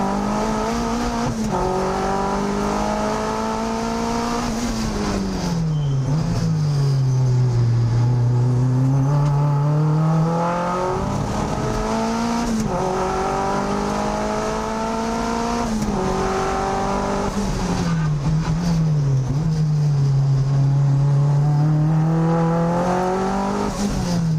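Turbocharged Mazda MX-5 race car lapping a circuit at a time attack event: loud, continuous engine note rising and falling through gear changes and corners, with repeated upshifts and deceleration dips, close onboard.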